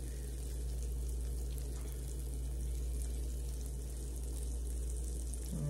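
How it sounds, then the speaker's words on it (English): Cheese sizzling on a hot chaffle maker while making keto buffalo chicken chaffles, a steady close crackling hiss under a low constant hum, with no talking. "You can even see that it's sizzling"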